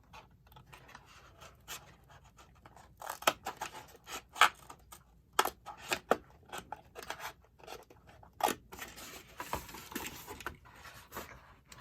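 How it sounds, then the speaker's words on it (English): Scissors cutting through the folds of a large accordion file, a series of close, crisp snips and crunches at uneven intervals with quiet rustling between them. "I'm going to cut each of these folds."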